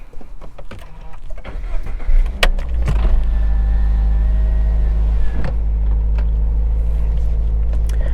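A 2023 Subaru BRZ heard from inside on a drive, with a steady low engine and road drone that swells after a brief quieter start, and a few clicks and a faint whine over the continuous hum.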